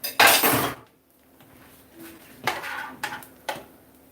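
A loud clatter of dishes dropped into a sink, followed after a pause by several lighter, separate clinks of plates and utensils settling, close by and alone.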